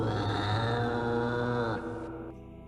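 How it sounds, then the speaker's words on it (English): A cat's growl, pitched down and smeared with reverb: deep, drawn-out and unnaturally low, dropping off and trailing into a hollow echo. "it's the sound of a cat growling, just with the pitch turned down with a reverb effect"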